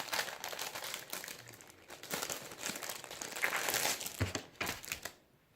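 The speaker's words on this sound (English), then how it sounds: "Let's take this plastic wrapping off." Plastic wrapping crinkles and crumples as it is peeled off a new Arteck HB030B keyboard, a steady run of close, rustling crackles with a few sharper tearing bursts before it goes quiet.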